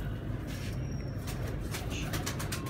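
Soft domestic pigeon cooing close by, a low throaty coo over a faint background hum, with a few light clicks and rustles.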